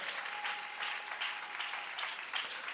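A church congregation applauds together, a steady dense wash of clapping that swells in rhythmic waves throughout, fairly close and filling the space.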